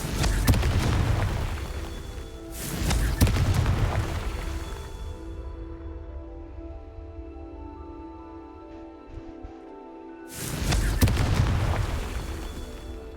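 Confringo fire spells explode in Hogwarts Legacy, two loud booming blasts with rumbling tails, separated by a quieter stretch of low game ambience.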